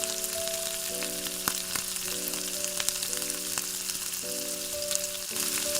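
Chicken pieces for chili chicken frying in oil after being turned to the other side, a steady crackling sizzle with scattered pops and a faint tonal hum in the background.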